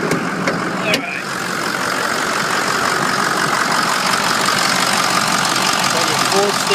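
A Ford car engine idles with the hood open, a steady, loud, close rumble that holds evenly throughout the clip.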